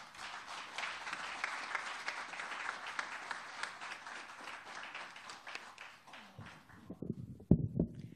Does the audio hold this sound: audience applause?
yes